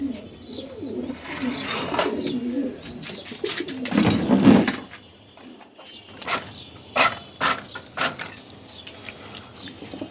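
Racer pigeons coo repeatedly at a pigeon farm, soft throaty calls rising and falling over ten seconds with other birds chirping nearby and a brief louder burst midway.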